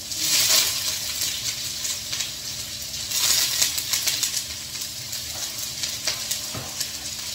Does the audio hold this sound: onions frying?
yes